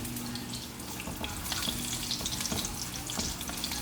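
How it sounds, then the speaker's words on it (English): Cabbage stir-fries in a hot pan with a dense, even sizzle and occasional soft crackles and stirring clicks, steady and close throughout. "Let it simmer and, you know, stir fry a little bit longer."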